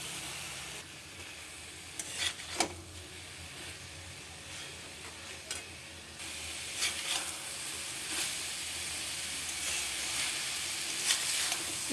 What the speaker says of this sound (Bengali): কষানো হয়ে গেছে মশলাটা, এবার আমি ভাতটা দিয়ে দিচ্ছি